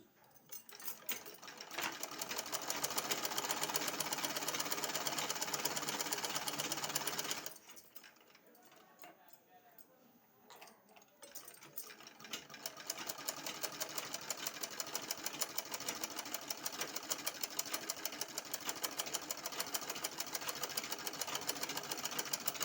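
Sewing machine stitching a blouse, a loud fast continuous mechanical whir that stops abruptly for a few seconds of near silence, then resumes steadily to the end.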